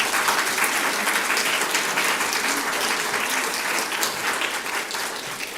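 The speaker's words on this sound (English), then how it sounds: "I am going to ask that we don't applaud or boo" Sustained applause fills a county commission meeting room, many hands clapping in a dense, steady roar that holds for several seconds with no talk over it.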